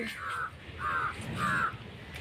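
Three loud, harsh crow caws ring out one after another at a steady pace, close by, with little else around.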